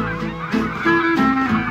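A goose flying in formation honks several times in a row. The honks are loud and nasal, with short gaps between them, and sound fairly near.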